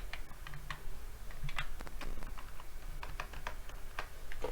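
Typing on a computer keyboard while writing SQLite table code in Python, a quick uneven run of close, crisp key clicks with no voices.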